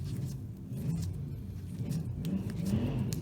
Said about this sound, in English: my neighbor's been working on his car, and the only thing he knows how to do is rev the engine